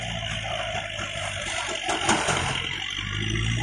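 A Kubota MU4501 tractor engine running a thresher, a steady close diesel drone with a brief swell in load around the middle, continuing without a break.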